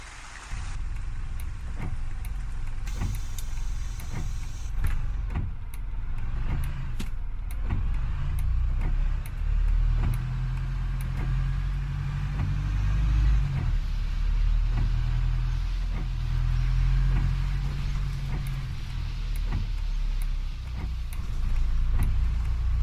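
A bus on the Yorkshire Counties map in OMSI 2, driving Route X4 from Ashbury to Evesham, gives off a steady low engine rumble with a constant road hiss and occasional light ticking clicks.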